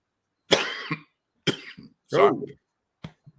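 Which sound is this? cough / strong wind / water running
cough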